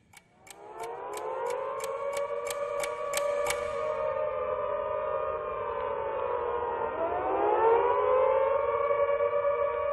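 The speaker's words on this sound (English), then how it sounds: "The sirens pervaded the whole atmosphere all over the city." Wailing air raid sirens over a city sustain across the whole stretch, rising and overlapping with a slow pitch sweep near the end, loud and echoing; a rapid series of clicks at the start.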